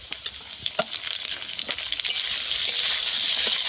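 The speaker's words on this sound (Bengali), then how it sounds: "আবারও কিছুক্ষণ ভেজে নেব" Tomatoes and ginger sizzle in a hot pan, light crackles and pops at first that swell into a steady, close frying hiss with no talking.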